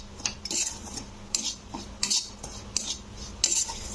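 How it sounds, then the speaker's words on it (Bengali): Semolina dry-roasting in a pan over a medium flame for halwa, stirred with a metal spoon: repeated scraping strokes against the pan in an uneven rhythm, close and moderately loud, with no voices. "এইভাবে সুজিটাকে মিনিমাম 2 থেকে 3 মিনিট নাড়তে হবে"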